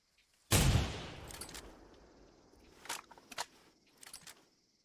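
A single loud gunshot in the hunting game theHunter: Primal, sharp crack with a long fading echo, followed by a few faint clicks and footsteps, no talk.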